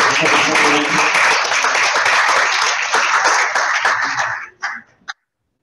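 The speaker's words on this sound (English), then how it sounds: "So can we have a round of applause for our mission members?" An in-person audience at a chamber Eggs & Issues breakfast applauds its mission members with a full burst of clapping that holds steady, then thins to a few scattered claps and stops near the end.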